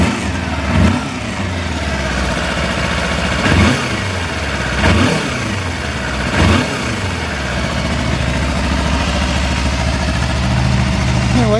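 A 2017 Kawasaki Versys X ABS motorcycle engine idles steadily up close, broken by four short, even throttle blips that rev and quickly fall back to idle.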